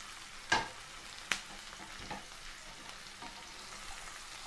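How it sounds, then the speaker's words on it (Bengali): Chopped beans dropped into a pan for bread Manchurian and fried, a quiet sizzle punctuated by a few distinct clinks and scrapes of a spatula, close but soft. "এরপর আমি দিচ্ছি একে একে কুচানো বিনস"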